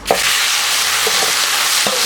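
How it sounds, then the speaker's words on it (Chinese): Pig intestines stir-fry over high heat in a wok with rapeseed oil, a loud steady sizzle broken by a few sharp scraping clicks of the spatula, with no voices. "大火炒菜就是舒服"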